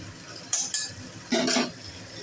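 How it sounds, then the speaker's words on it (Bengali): Chicken meat goes into a pan of fried onion, garlic, ginger and cumin for rezala: a couple of light utensil clinks, then a brief rustling sizzle as the meat lands, fairly close, with no talk. "এর মধ্যে আমি দিয়ে দেবো মাংসটাকে।"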